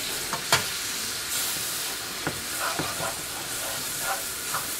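Onions fry in a pan with a constant hiss while a utensil stirs them, adding several sharp scrapes and clinks against the pan at irregular moments.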